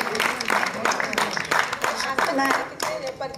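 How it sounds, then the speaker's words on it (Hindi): An audience claps at a live musical programme, giving a steady run of sharp, fairly close handclaps in a loose rhythm for several seconds while a voice talks over them. "तालियां तालियां तालियां तालियां।"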